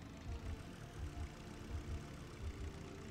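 A car engine idles quietly with a low, pulsing rumble, the throbs recurring at an even pace and no one speaking.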